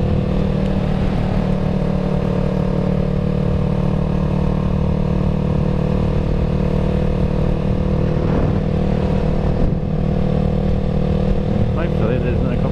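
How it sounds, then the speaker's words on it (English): Steady engine drone of a Yamaha YZF R3 motorcycle being ridden on an open road, a continuous hum with wind rush and a slight rise in revs, heard from the rider's position throughout. "To get to an area I can get the bike up to 100 k's."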